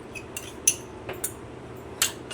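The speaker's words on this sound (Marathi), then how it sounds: "हा तयार केलेला मसाला मी सर्व एकत्र करून घेणार आहे" A utensil clinks lightly against a bowl as prepared masala is mixed with ground peanuts for a ridge gourd dish. A few sparse, sharp taps sit over quiet background hiss.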